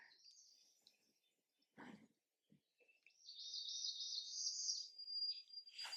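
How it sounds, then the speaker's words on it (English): Faint bird calls drift in from a distance, a few sparse chirps and then a longer, brighter song, with a brief rustle partway through. "maybe I'll be quiet so you can hear more of the birds"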